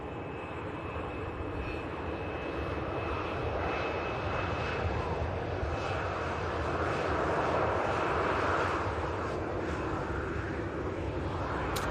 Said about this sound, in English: very plain TUI aircraft